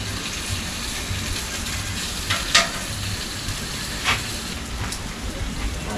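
Bacon sizzles on a Blackstone griddle with a constant, close crackling hiss, punctuated by a few brighter spits and pops.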